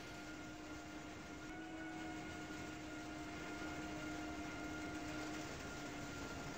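A train rolls along steadily in the Trainz Railroad Simulator 2019 game, a continuous low rumble with faint clattering and a thin steady tone, heard alone without speech.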